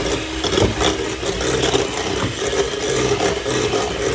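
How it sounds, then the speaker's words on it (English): Electric hand whisks run on high through Swiss roll sponge mixture in a bowl, a loud, steady motor whir with slight wavering as the beaters move around the bowl throughout. "Hold on to your bowl and turn the whisks up high as they go"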